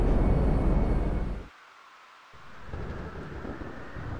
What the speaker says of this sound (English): It's a very, very, very stormy day